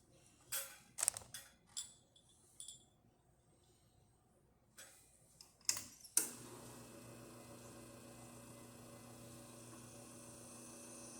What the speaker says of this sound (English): So let's go ahead and test it, make a espresso shot on it.